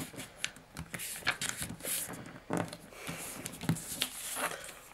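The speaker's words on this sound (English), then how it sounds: "you're going to want to fold it again." A sheet of printer paper being folded again into a paper boat, giving close, dry crinkles and crisp creasing rustles in quick irregular bursts, with no voices.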